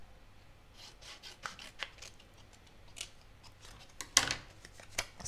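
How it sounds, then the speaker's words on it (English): Soft, close snips of scissors trimming a small punched paper oval, a series of quick light cuts with a rustle of paper and a louder final snip. "I need to trim it down"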